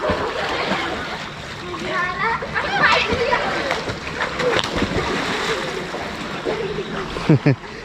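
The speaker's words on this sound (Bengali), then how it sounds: "এখানে সবাই সাঁতার কাটতেছে" Children swimming and splashing in rainwater flooding a low-lying patch after continuous rain, with scattered splashes and shouting voices over a steady outdoor murmur, plus a couple of sharp splashes at the end.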